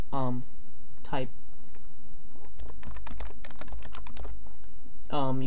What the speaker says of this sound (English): Whatever password you want to type.